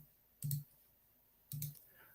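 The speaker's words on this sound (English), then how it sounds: "I'm clicking on the drop-down menu" Two crisp computer mouse clicks on a drop-down menu, about a second apart, each a short sharp tap in an otherwise quiet room.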